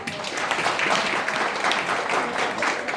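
Congregation at a Haleluya church service applauding, a steady dense wash of clapping that holds evenly from start to finish with no voices standing out.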